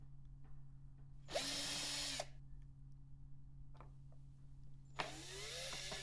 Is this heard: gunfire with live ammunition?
no